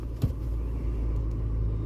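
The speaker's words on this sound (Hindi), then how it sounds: "ये देखो बढ़ रही है, क्लच पे ही चल रही है हमारी गाड़ी" A car creeps forward slowly on the clutch alone during a driving lesson, a low steady engine rumble close by with a brief bump near the start and no voices.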